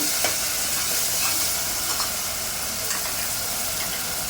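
Onions, green chillies, garlic and cumin sizzling in a frying pan while being stirred, a steady hiss broken by light scraping taps of a spoon.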